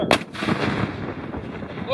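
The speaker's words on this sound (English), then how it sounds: "Gun 2 is ready. All right. Gun 2. Fire." A Civil War cannon fired at a historical reenactment demonstration: one loud, close boom with a sharp crack at the start, then a long rumbling echo that fades across open ground.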